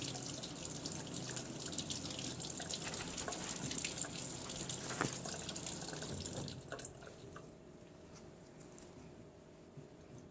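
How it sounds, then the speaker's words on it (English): Cold tap water runs steadily over a burn at a sink, a continuous close splashing flow that thins and quiets for the last few seconds. "I'm immediately going to start running cold water over this burn"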